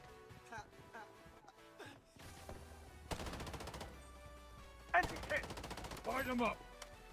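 Gunfire from a weapon in the first-person shooter Blood Strike, with bursts of rapid shots arriving in loud clusters near the end over game music and effects.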